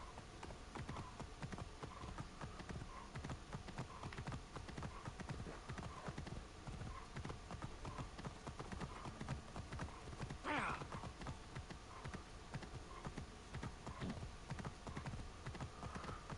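Horse hooves clip-clop steadily across ground in Assassin's Creed Origins, a continuous rhythmic trot with a brief whinny partway through and ambient game sounds underneath.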